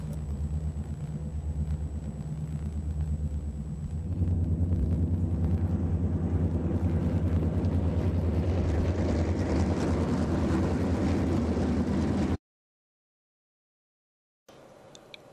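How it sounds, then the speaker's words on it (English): Chicago Great Western eastbound freight led by an F3 diesel locomotive with six units and piggyback cars, a heavy low engine rumble that grows louder partway through, then cuts out. "we see an F3 leading a 6-unit eastbound freight"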